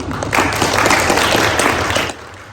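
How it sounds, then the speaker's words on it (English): A conference audience at a robotics, controls and AI event in Murdoch applauds three speakers, a loud, even burst of many hands clapping that swells quickly and then fades out. "Another round of applause to the three speakers for their wonderful, inspiring speech"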